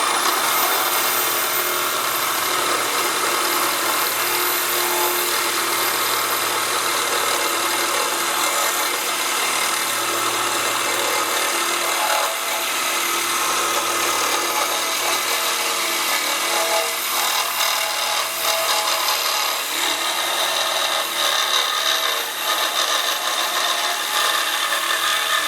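A power tool grinds steadily through metal ears on an engine part, a harsh, continuous rasp held for a long stretch without talk.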